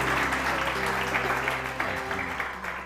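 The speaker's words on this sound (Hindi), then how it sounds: "तालियां बजाओ फरिश्तों के लिए।" Studio audience clapping on a Pakistani TV morning show, a loud sustained burst of applause that thins slightly toward the end, with a voice talking faintly underneath.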